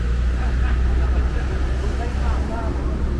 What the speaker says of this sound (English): Here's the traffic.